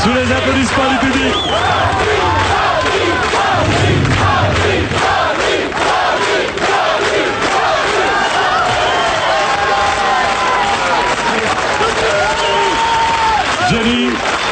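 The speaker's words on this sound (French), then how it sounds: "Sous les applaudissements du public." A French television studio audience in 1989 applauds and cheers loudly for the arrival of a star guest, a dense, continuous roar of clapping with shouts and whoops, with voices heard in the crowd throughout.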